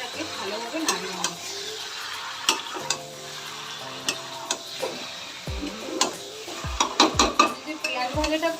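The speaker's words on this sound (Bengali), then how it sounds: "এবার আমি ফ্লেমটা মিডিয়াম দিয়ে এই পেঁয়াজগুলোর সাথে চিকেনটাকে ভালোভাবে নাড়িয়ে নেব।" Chicken pieces are stirred with fried onions in a pan over a medium flame, bringing a steady low sizzle, with a spoon scraping and clinking against the metal at irregular moments and a few louder knocks near the end.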